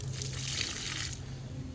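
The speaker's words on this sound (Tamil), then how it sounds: "இப்போ நம்ம தண்ணி ஊற்றிக்கலாம்." Water poured onto a newly planted papaya plant in a home garden, a steady splashing, trickling wash that runs for over a second and then trails off, close by with no talk.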